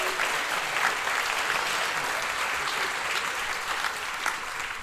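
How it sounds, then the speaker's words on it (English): Applause from the crowd at a champions' tribute evening, a dense, even wash of clapping sustained for about five seconds at moderate distance. "So a big round of applause to Mark Blau,"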